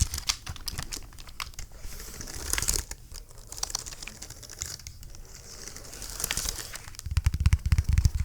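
Tapping and clicking on an old, very large Logitech computer keyboard, close and crisp, with irregular keystroke bursts and a few heavier thumps near the end, no talking.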